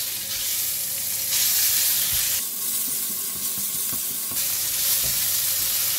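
Meat hitting hot oil with browned garlic for Cantonese yee mee, giving a steady loud sizzle with bursts of stirring and scraping throughout.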